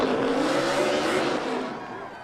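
Kevin Harvick's Ford NASCAR race car crossing the finish line to win: a loud, sustained engine roar with a rising whine that fades slightly toward the end, likely with crowd noise behind it.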